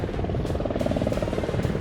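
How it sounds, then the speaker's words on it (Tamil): A coast guard helicopter passes over Chennai during a cyclone, a steady, fairly loud rotor and engine drone that holds evenly throughout with no voices. "ஹெலிகாப்டர்"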